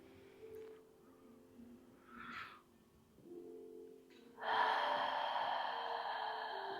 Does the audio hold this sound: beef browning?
no